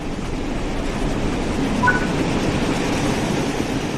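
A Flying Scotsman steam locomotive in Train Sim World 4 rumbles steadily along the tracks, a continuous low roar with a faint brief squeal partway through, no voices.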